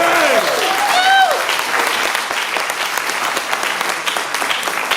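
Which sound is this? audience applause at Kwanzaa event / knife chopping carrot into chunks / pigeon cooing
audience applause at Kwanzaa event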